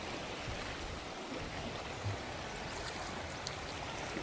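Rainwater rushes steadily in a stream beneath a bridge in Parbhani district, a constant, even wash of flowing water heard from a short distance, fairly faint and with no voices.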